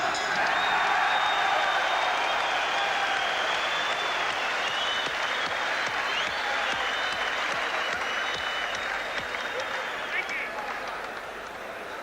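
A boxing crowd at the 1990 Billy Hardy v Orlando Canizales fight claps and cheers in a steady roar, with a commentator talking over it and the noise easing slightly near the end.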